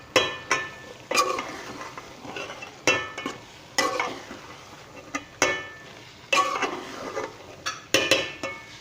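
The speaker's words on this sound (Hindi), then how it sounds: "अब हम मसाले में इसको अच्छी तरह मिक्स कर लेंगे।" Chana dal is stirred into masala in a pot: a spoon scrapes and clinks in a steady series of sharp strokes, roughly one or two each second, over a soft background of low sizzling.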